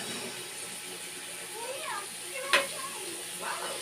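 Pork and chayote sauté in a pan, a soft steady sizzle with a sharp utensil clank partway through, while someone talks over the cooking.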